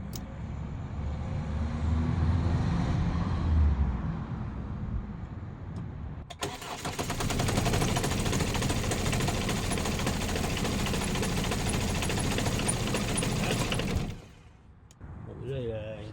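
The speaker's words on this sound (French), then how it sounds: "Le moteur, il vibre d'une force." A Renault Kangoo engine with dead engine mounts runs and rattles with a rough, buzzing vibration, loud and close, after some muffled rumbling; it cuts out near the end.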